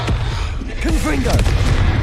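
Confringo spell blasts in Hogwarts Legacy combat go off as heavy booms with crackling impacts, loud and close, while a voice speaks over the fighting.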